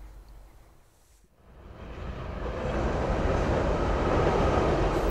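Steady low rumble of the Indian Pacific passenger train rolling along the tracks across Australia, growing louder and fuller after a brief dip, with no voices.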